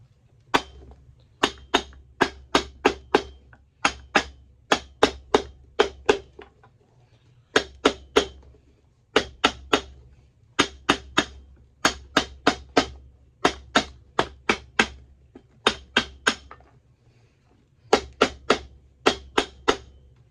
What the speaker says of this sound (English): I'm just going to hammer the welt.